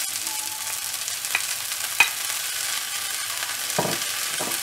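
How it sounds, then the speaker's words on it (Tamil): Chopped fenugreek leaves frying in a pan for a Tamil-style kara kuzhambu gravy, giving a steady broadband sizzle with a few soft stirring scrapes and taps, with no one talking. "இப்போ சின்ன சின்னதாக வெந்தய கீரையை கட் பண்ணி வச்சுருக்கேன், அதை இதில் ஆட் பண்ணி ஃப்ரை பண்ணிக்கலாம்."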